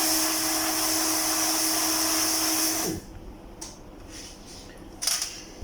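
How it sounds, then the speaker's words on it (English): Heat gun blowing hot air onto a TV LED backlight strip to remove an LED, a steady close whooshing drone for about three seconds that cuts off, followed by quiet handling clicks. "Now I will remove it using heat gun."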